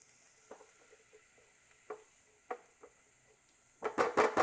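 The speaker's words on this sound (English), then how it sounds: "Stir for a few minutes or until the aromatics are golden on the edge." Shallot, garlic and ginger frying in a pan, a faint low sizzle broken by scattered scrapes and taps of a utensil stirring, ending in a louder cluster of clattering stirs; no one speaks.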